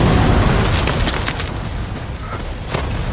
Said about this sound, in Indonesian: Dengan cepat, ia melepaskan pakaian itu sebelum akhirnya pakaian itu pun meledak.